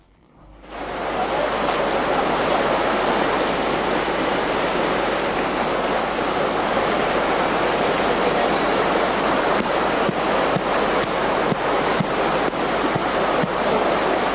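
River water rushing and splashing continuously where wool and clothes are being washed by hand, a loud steady broadband wash of flowing water with occasional sharper splashes, no voices.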